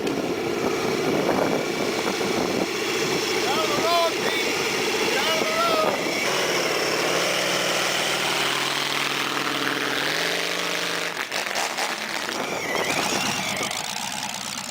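A motorcycle with a round radial aircraft engine fitted to it runs with a steady, rough, loud drone throughout, with shifting whines and squeals as the revs change.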